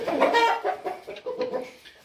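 Close rooster clucking in a stable, a run of short throaty calls repeating in an uneven rhythm, with no talking.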